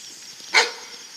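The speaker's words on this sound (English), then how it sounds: "Don't know why it is I make dogs bark." A single dog bark rings out at a moderate distance in an outdoor setting during metal detecting, one short sharp burst over quiet background hiss.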